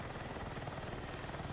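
Steady rotor drone of a helicopter in a shooter video game, a continuous throbbing wash holding at an even, moderate level with no voices.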